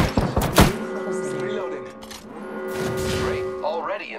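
Gunfire and heavy impacts in the battle game Apex Legends, a loud close burst at the start followed by tonal game effects and a character voice.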